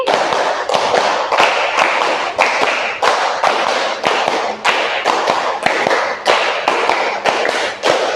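A classroom of students clapping in unison on command, sharp synchronized claps in bursts of five with brief pauses between groups, loud and close.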